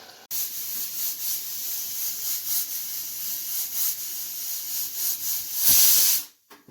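A pressure cooker steams with a pulsing hiss that rises into a loud, sharp whistle near the end before cutting off abruptly, close and alone.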